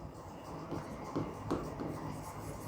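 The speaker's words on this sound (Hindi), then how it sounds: "तो लिखेंगे" Chalk or marker scratches steadily across a board during a physics lecture on Gauss's theorem, a continuous close scraping with brief louder strokes, no speech.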